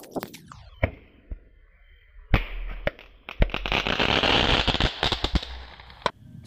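Sharp pops from a homemade matchstick Roman candle crack out one after another, followed by a fizzing, hissing burst and a few more scattered bangs, fairly close.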